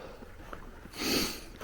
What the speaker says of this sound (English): Probably all you can hear is me breathing now.